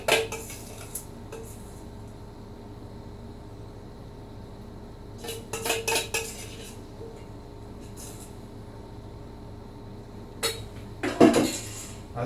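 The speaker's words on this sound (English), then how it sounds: "1 cup of the Italian blend, some garlic minced, sauce and an egg, mix it up in the bowl" Italian cheese blend, minced garlic, sauce and an egg are mixed together in a bowl, heard as a few short bursts of utensil scraping and clinking against the bowl between quiet stretches, close by.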